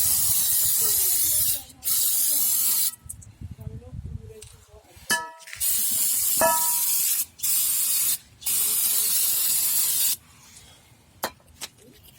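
A jet of water sprays in repeated long bursts into a car's rear brake drum during cleaning, loud and hissing, with a few short clinks and quiet pauses between blasts.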